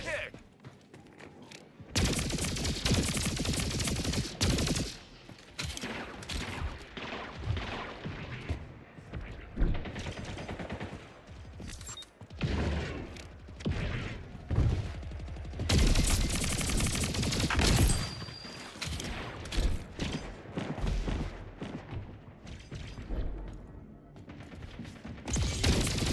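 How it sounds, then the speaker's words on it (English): Shotgun fire from the arena shooter Splitgate 2 comes as loud, dense bursts of blasts mixed with other weapon fire and mechanical clatter, with a voice talking over much of the action. "Wow, shotgun, of course."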